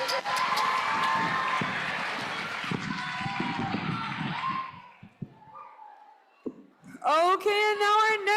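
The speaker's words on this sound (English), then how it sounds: "Scholars, can we give them a huge round of applause?" An audience at a scholars' event applauds and cheers for about five seconds, loud and dense, then fades out; a brief pause follows before a voice speaks.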